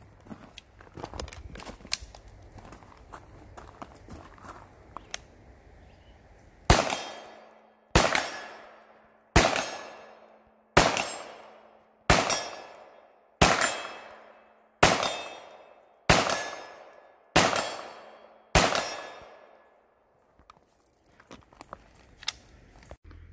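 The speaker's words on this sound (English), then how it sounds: "A few more rounds going through the PC charger." A Ruger PC Charger fires Federal 124 grain HST rounds, about eleven sharp, loud shots evenly spaced roughly a second and a half apart, each ringing out briefly, after some softer handling clicks and rustles.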